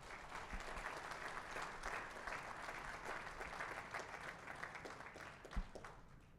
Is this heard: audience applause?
yes